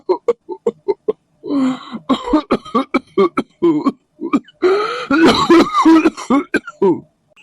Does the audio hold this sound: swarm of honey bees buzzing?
no